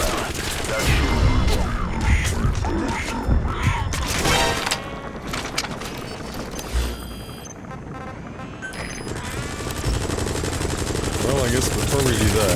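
Gunfire in Metal Gear Solid V: The Phantom Pain, with sustained automatic bursts and heavy booms against an enemy gunship, loud and dense throughout, easing mid-clip before picking up again, with some voice underneath.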